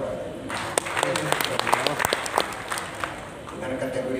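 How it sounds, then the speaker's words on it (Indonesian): Audience clapping for teachers at a madrasah awards ceremony in West Sumatra, scattered claps with a few sharp individual hits over a hall murmur, while a voice talks over the applause. "Tepuk tangan, Pak."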